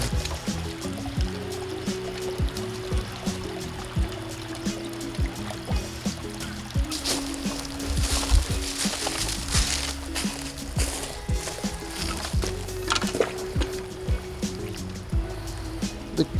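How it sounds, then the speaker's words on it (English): Water runs and trickles steadily from a garden pond being drained, a continuous gurgling flow with scattered splashes and a low hum underneath, fairly close and without talk. "I'm draining the pond just so that my client can get a good peace of mind ultimately"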